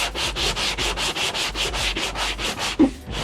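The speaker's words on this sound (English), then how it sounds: "it's 220 grit sandpaper. And then we're just gonna run it on the bottom right here to make sure that it's completely straight." 220 grit sandpaper wrapped on a wood block rubbing back and forth on a Miata bumper cut: about a dozen even, rhythmic rasping strokes, close and loud, ending with a small knock.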